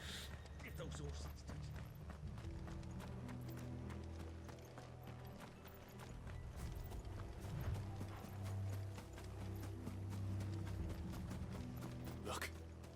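Horses ridden in the video game Final Fantasy 16 clatter in a steady rhythmic clip-clop of hooves, joined by mechanical clanking and a brief whinny beneath game music and voices.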